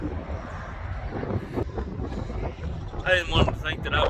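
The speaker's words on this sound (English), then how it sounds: "God, it's windy." Strong wind buffets the microphone in loud, rumbling gusts, and a brief voice rises near the end.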